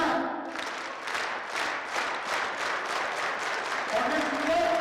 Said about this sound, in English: Let's give a loud leadership clap.